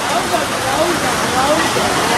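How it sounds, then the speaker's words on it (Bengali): Rain starting outside a temple at Tarkeshwar during the Shravan pilgrimage makes a loud, steady broadband rush, with voices faintly underneath. "বৃষ্টি শুরু হয়ে গেছে"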